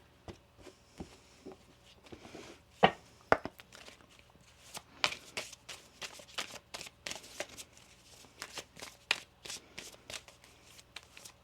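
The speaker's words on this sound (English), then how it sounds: "One more shuffle here." A tarot card deck being shuffled up close, crisp riffling bursts and snaps that come faster and denser as the shuffle goes on, with no talk.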